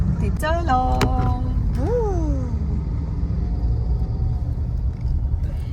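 Heavy road traffic near Morgaon rumbles continuously with engine drone, while a vehicle horn or siren-like tone rises and falls early on and people talk over it.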